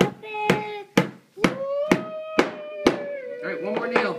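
Nail driven into wood with a hammer by a child building a toy fire truck, struck about seven times in a steady rhythm of sharp close taps, with a voice and humming going on between and over the blows.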